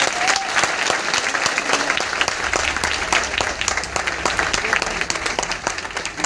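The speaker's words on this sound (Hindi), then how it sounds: "उन लोगों के लिए जोरदार ताली बजा दीजिए" Loud, dense applause from a large gathering fills the hall continuously, many hands clapping together at close range with crowd noise underneath.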